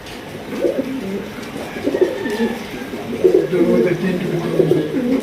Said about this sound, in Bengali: অনেকেই ডাক দেখতে চান আজকে প্রত্যেকটা কবুতর ইনশাল্লাহ আপনার ডাক দেখে কবুতরগুলো সংগ্রহ করতে পারবেন